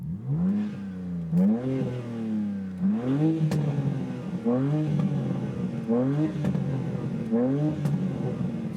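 BMW M3 G80 in sport mode with exhaust flaps open, revved repeatedly in a steady series of about seven loud, close throttle blips, each surging and falling back to a rough, crackling idle between them.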